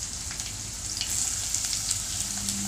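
Onions frying in hot oil with fennel seeds, a steady bright sizzle close up, growing slightly louder partway through, with occasional crackles and no voices.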